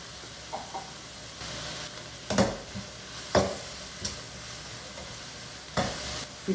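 Curry leaves crackle and sizzle in hot oil for a chickpea biryani, with sharp bursts of spitting and stirring over a low frying hiss, close and fairly loud.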